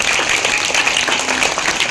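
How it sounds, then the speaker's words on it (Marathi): Steady crowd applause welcoming guests at a school event marking Swami Vivekananda and Rajmata Jijau birth anniversaries, a dense continuous clapping wash throughout with no pauses. "जोरदार टाळ्या वाजवून आपण त्यांचे स्वागत करूया।"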